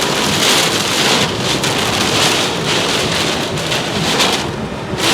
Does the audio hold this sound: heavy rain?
yes